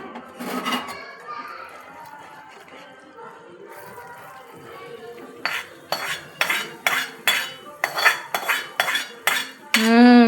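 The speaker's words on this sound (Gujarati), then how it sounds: "હવે આપણે આમાં ચૂરમા ભેગું નાખી દેવાનું છે" Churma being mixed into melted jaggery and desi ghee for Ganesh Chaturthi laddoos, in a home kitchen: a spoon clinks and scrapes against a vessel in a quick run of rhythmic strokes, with voices talking briefly at the start.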